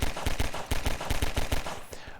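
Rapid pistol shots in Half-Life 2, about a dozen sharp cracks fired in quick succession at a steady rhythm, loud and close over a low background hum.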